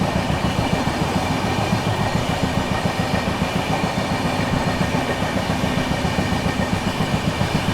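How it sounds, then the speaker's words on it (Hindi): The Anand Vihar–Gorakhpur Humsafar Express rumbles past close by, loud and continuous, with a steady rapid clickety-clack of wheels over rail joints and no voices. "चलिए दोस्तों सामने से आ रही है आप लोगों की आनंद विहार टर्मिनल गोरखपुर हमसफर एक्सप्रेस"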